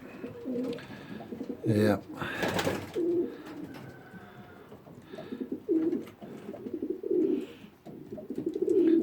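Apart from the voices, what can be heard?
racing pigeons cooing while finishing their food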